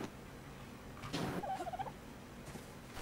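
A tamed parrot in the video game Ark: Survival Evolved gives a short chirping, warbling squawk amid steady background game ambience.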